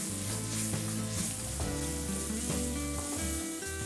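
Onions hit a hot pan for Asian-style, high-heat sautéed vegetables, setting off a loud, steady, close sizzle that fills the whole stretch without a break.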